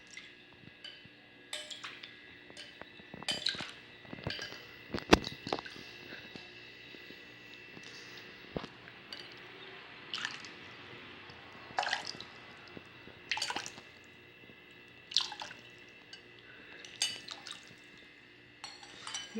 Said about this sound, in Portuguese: Mexendo bem para que ambos se misturem